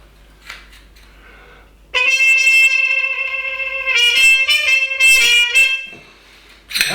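A trumpet with a Harmon mute, stem removed, holds a bright, buzzy note, then plays a string of short tongued notes, close up and loud, with a faint bump before it starts.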